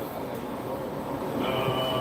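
A passenger train rolls along steadily from inside a car, giving a continuous rumble of wheels on rails with a faint rising squeal near the end.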